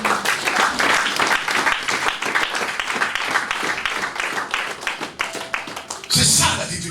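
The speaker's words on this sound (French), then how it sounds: "On peut acclamer les sœurs." A church congregation applauds the sisters with sustained, dense clapping that swells to a louder burst near the end, with voices talking over it.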